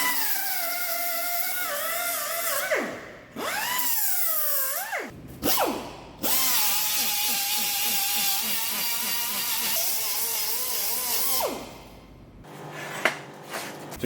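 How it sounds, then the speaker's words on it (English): A pneumatic needle scaler chatters over weld spatter in the corners of a newly made excavator H link. It gives a loud, continuous rattling whine whose pitch sweeps up and down as it is worked, with a couple of short breaks. "I'm using the needle scaler, it's just to remove any of the weld spatter that is stuck in the corners where I can't reach it with a grinder"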